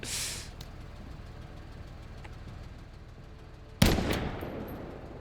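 Gunfire from the video game MENACE on expert campaign difficulty: a loud burst of shots at the start and another sharp volley near the end, with a steady low rumble in between and no talking.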